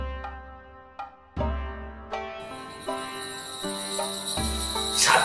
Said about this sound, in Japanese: スズムシの音みたいなのが